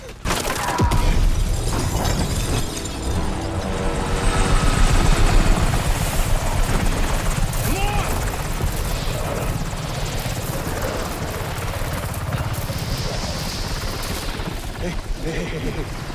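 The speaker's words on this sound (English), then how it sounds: "Big as helicopter with machine gun, or more like minigun, kills everyone and rescue your ass." A large helicopter armed with a minigun in the video game Battlefield 6 thunders steadily with rotor roar throughout, loud and close, with bursts of gunfire and shattering mixed in.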